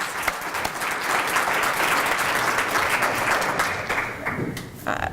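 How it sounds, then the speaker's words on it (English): Loud applause from an audience, dense steady clapping that holds for several seconds before thinning out toward the end. "I really think he deserves applause."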